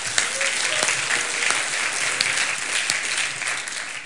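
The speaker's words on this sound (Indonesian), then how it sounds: "Tepuk tangan, 3 orang akan dibaptis" A church congregation applauds steadily throughout, a dense, continuous clapping that fills the room at fairly close range, with no clear speech over it.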